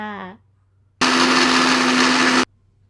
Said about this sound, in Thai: เสียงจะดังมากเลยนะคะ เดี๋ยวป้าค่อยๆ ปั่นไปนะคะ